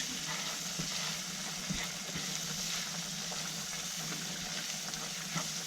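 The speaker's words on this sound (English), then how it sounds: "fry the sand gobies in the butter with the wild garlic." Sand gobies frying in butter with wild garlic, a steady close sizzle with soft crackles and pops running throughout, no voices.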